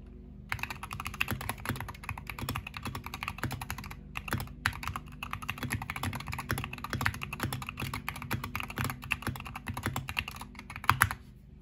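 Rapid, continuous typing on a Wooting 60HE mechanical gaming keyboard, crisp clacky keystrokes close up with brief pauses, no talking.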